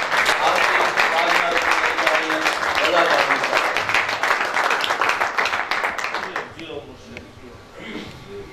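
Loud, sustained audience applause at an Urdu mushaira poetry gathering, welcoming the poet Raza Kazmi to the stage; dense clapping fills most of the stretch before tapering off near the end.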